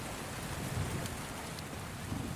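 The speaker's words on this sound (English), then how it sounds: "Outside, a gentle evening rain is falling, its patter echoing faintly against the massive stone exterior" Gentle evening rain falls outside a stone castle, a soft continuous patter that stays faint and even throughout, with no voices.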